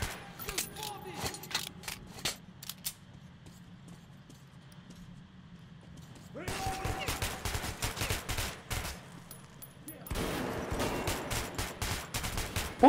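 Rapid bursts of gunfire from the video game Metro 2033 crackle in clusters, a quieter stretch in the middle and then dense volleys resuming near the end.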